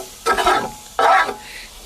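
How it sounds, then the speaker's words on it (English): Marshmallows being stirred into melted butter in a pot, close scraping and squishing strokes in about three short bursts separated by brief pauses, with no voices. "Cover those marshmallows well with that butter so they don't stick too much. And just keep stirring until they have changed into your"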